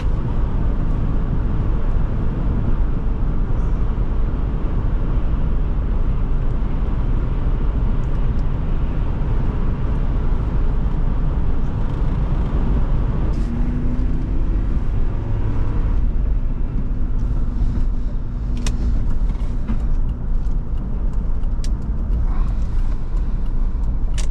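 A 2004 Ford Explorer with a 4.6L V8 cruises on the freeway, its low, steady engine drone and road rumble filling the cabin continuously, with faint ticks and rattles scattered through the later part.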